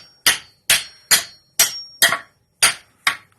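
Hammer striking a nail, likely a very hard one driven at an angle, with seven sharp, evenly spaced blows ringing out close and loud, each followed by a short decay, with no voices over them.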